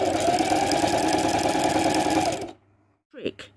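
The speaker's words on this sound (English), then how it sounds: "lower your presser foot again, and then start stitching" Sewing machine stitching appliqué fabric for an orange peel quilt topper, a steady fast mechanical whir for a couple of seconds that stops, followed by a brief handling sound.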